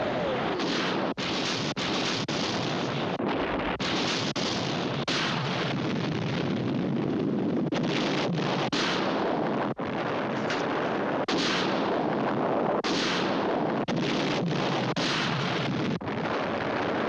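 Missile explosions during a space battle in a sci-fi TV episode, heard as a continuous loud roar of blasts and rumbling impacts with repeated booming bursts over the whole stretch, with no voices.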